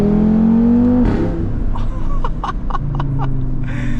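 Loud Audi RS3 engine heard from inside while driving, a deep droning growl that drops in pitch after about a second, with crackles and pops following, all close and loud.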